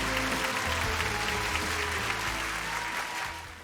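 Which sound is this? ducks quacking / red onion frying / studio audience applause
studio audience applause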